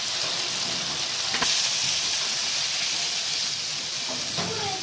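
Water poured into a hot pan of potatoes for alur dom, giving a steady, loud hissing sizzle close by, with a few clinks near the end.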